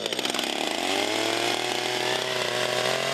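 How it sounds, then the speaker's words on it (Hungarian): Chainsaw engine at an outdoor Christmas tree market during the third weekend of Advent on a cold day, running with a loud, sustained buzzing drone that settles into a steady pitch, alone and close. "A hideg ellenére is könnyen elindult a láncfűrész motorja advent harmadik hétvégéjén."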